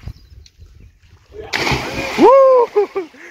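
A person jumps straight into water, landing with one sharp, close splash followed by brief sloshing, and a voice calls out right after.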